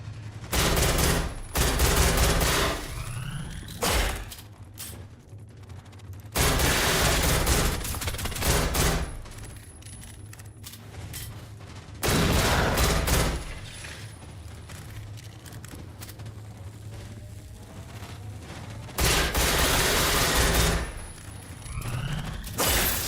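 Pistol gunfire in the video game Generation Zero comes in loud, rapid volleys of close shots, several bursts spaced by quieter gaps with a steady low hum underneath and no talking.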